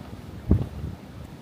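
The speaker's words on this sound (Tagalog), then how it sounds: "Grabe yung hangin." Strong wind in a snowstorm on Long Island, New York, hits the microphone as one short, low, rumbling gust. No one speaks.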